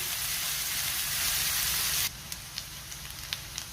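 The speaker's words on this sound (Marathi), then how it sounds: "कांदा आपल्याला व्यवस्थित परतून घ्यायचा आहे." Onion sautés in a hot pan over a medium gas flame, a steady loud sizzle that drops abruptly partway through to a quieter crackle with scattered pops, with no talk.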